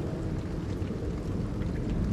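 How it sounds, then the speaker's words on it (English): Steady, dense video game rain pours down in a continuous broadband hiss with low rumbling underneath, no voices. "Oh, baby, it's pouring rain."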